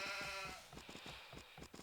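Sheep bleating in a strategy video game while a boar is being hunted, a faint bleat at the start followed by soft scattered game sounds and clicks.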